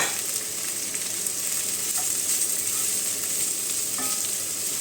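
Onions and garlic sizzle steadily in a hot pan, a dense, even frying hiss with a few faint clicks of utensils, alone with no voices.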